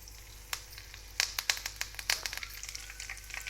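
Spices and curry leaves dropped into hot oil for tempering, crackling and spitting in sharp irregular pops that cluster and build over a soft background hiss, close and fairly loud.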